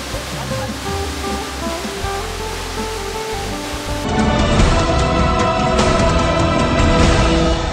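Waterfall at Riam on Mount Poe, a steady broadband roar of falling water that grows noticeably louder and brighter midway through, continuous with no voices.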